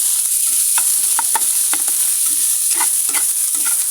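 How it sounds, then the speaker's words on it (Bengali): A mashed banana flower mixture is stirred in a pan, a hissing frying sound under a string of scrapes and light knocks from the spoon, close and fairly loud. "ভালো করে নেড়ে নিতে হবে।"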